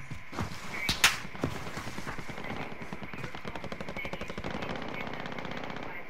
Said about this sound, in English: I got shot at from that way.